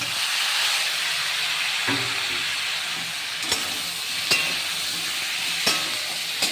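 Vegetables with cumin powder frying in a pan for a bottle-gourd greens dish, a steady broadband sizzle with a few sharp scraping clicks from stirring, close and continuous with no talk.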